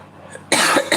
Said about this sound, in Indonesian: Lagi batuk-batuk nih.